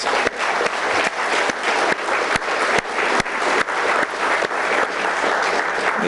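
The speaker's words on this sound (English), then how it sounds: "Let's give her another round of applause" Audience applause for a star singer at a city's State of the City address, a dense steady wash of clapping from a large crowd, loud and sustained throughout with no talk over it.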